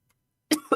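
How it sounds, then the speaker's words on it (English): A single close cough right after a stretch of silence, two quick harsh bursts in a row, moderately loud and alone with no talk around it. "I started coughing because I laughed"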